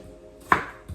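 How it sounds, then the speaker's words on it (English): A single knife chop through onions on a board while cooking ackee with smoked herring, one close, crisp cut followed by a softer second tap in an otherwise quiet kitchen. "So I'm chopping."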